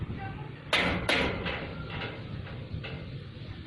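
Two loud knocks on a door land close together, followed by a few fainter thuds, in a staged theatre performance of a comedy, with a quiet roomy background.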